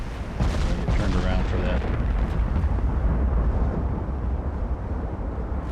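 Battleship turret guns fire in the Ultimate Admiral: Dreadnoughts naval game during a fleet action, heavy rumbling booms rolling continuously under a voice.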